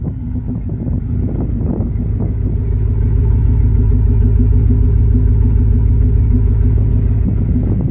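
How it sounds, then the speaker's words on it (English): A 1996 Camaro Z28 SS idles outdoors on a cold day, its engine producing a loud, close, steady low rumble with a slightly uneven throb, running continuously with no talk. "I got the car running because it's like 32 degrees outside"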